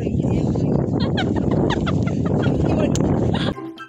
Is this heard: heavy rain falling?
no